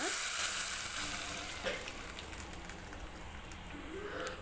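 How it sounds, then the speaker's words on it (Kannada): Tempering spices crackle and sizzle in hot oil for a quick thin sambar in a home kitchen, a steady close frying hiss with a brief sharper burst partway through and no talk. "ಇದಕ್ಕೆ ಒಗ್ಗರಣೆ ಹಾಕೋಣ"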